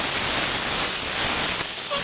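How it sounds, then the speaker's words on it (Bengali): Potatoes and eggplant frying in a pan for a greens curry give a steady, close hiss of broad sizzle that runs without a break. "এদিকে আমার আলু আর এ ভাজা হচ্ছে দেখো"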